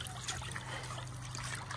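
Water splashing and trickling as people swim in warm open water, a steady close wash of sloshing with small bursts, continuous throughout.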